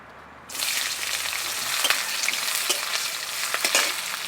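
Chopped onions hit hot oil in a pan and start to sizzle, a sudden loud hiss that settles into a steady bright frying crackle with occasional stirring scrapes, close up and alone.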